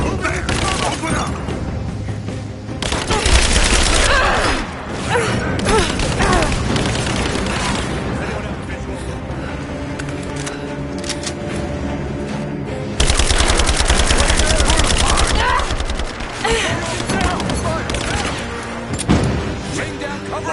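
Heavy automatic gunfire in a Tomb Raider shootout, with loud, rapid bursts of rifle fire and thumping impacts going on continuously, pausing briefly, then resuming hard, while voices shout amid the firefight.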